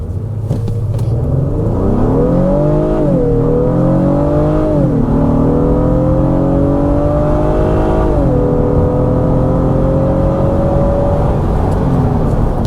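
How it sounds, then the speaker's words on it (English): A 2026 Honda Passport Trailsport SUV of about 4,700 pounds accelerating hard from 0 to 60, its engine droning loudly and climbing in pitch through several gear shifts, heard steadily from inside the cabin. "So I want to try a quick 0 to 60, see how it does."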